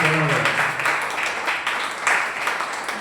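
Congregation applauding during a Sunday church service, a dense, even wash of clapping that holds steady for a few seconds, with a voice briefly heard at the start.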